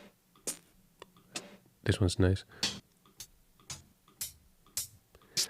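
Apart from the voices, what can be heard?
hi-hat samples taken from vinyl records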